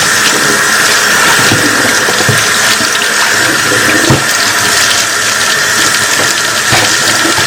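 A Scrub Daddy sponge rinsed under running tap water, a loud, steady rush of water pouring into a sink with small splashy shifts as the sponge moves through the stream. No one speaks.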